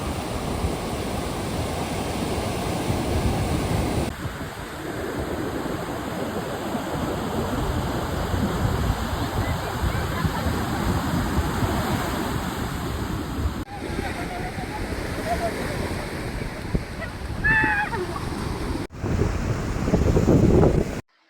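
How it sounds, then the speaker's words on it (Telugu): Ocean surf at Chirala beach rolls in steadily as broadband wave wash with wind buffeting the microphone, continuous and fairly loud throughout, with a faint voice and brief tonal sounds in the latter part. "ఆ వేవ్ సౌండ్ వినగానే మా ఆనందానికి హద్దులు లేవు"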